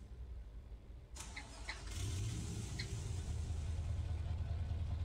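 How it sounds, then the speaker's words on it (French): A V8 truck engine starting: a short starter crank followed by the engine catching into a deep, steady idle that grows slightly louder and holds, close and fairly quiet with no talk. "je démarre le camion"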